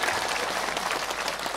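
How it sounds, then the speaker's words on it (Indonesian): Dense, steady applause from an audience at a religious gathering in Indonesia, a continuous wash of many hands clapping together without pause, with no talk standing out above it. "Tepuk tangan untuk Mas Ipang Wahid"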